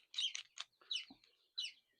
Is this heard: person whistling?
no